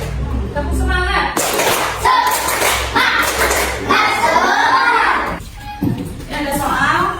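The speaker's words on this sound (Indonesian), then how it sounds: "Tepuk semangat." Children clap a rhythmic 'tepuk semangat' chant in a classroom, loud, with bursts of patterned clapping mixed with kids' voices calling along throughout.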